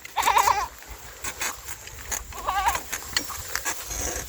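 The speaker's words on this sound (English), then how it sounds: "Goats." Two bleating goats outdoors near a river in Jamaica, a wavering cry at the start and a second shorter bleat a couple of seconds later, moderately close over soft background rustle.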